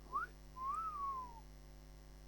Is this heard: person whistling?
yes